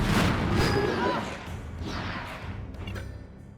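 A bomb goes off in the video game Wartales, a loud booming blast at the start that rumbles and fades over the next few seconds with lingering low thuds.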